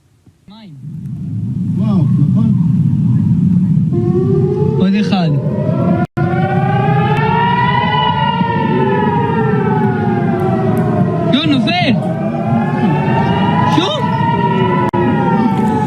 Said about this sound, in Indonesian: Sirene udara diaktifkan di kota Dimona, Beersheba, dan Eilat.